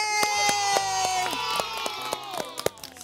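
A crowd of kindergarten children cheers and shouts "yeay" together, lively and overlapping, with clapping and whoops near and loud.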